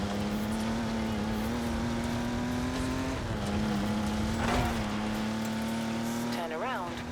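Jaguar E-Type driven in the Forza Horizon 4 racing game, its engine holding a steady drone that dips and climbs slightly with shifts, close and continuous, with a navigation voice speaking over it.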